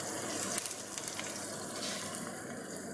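About four small onions frying in a very hot wok while cooking chicken karahi, a continuous close, dense sizzle with soft crackles throughout.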